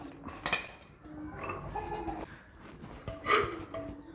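Eggs and chopped onion being mixed in a bowl for an omelette, with soft clinks and scraping of a utensil against the bowl in short irregular bursts, quiet and close.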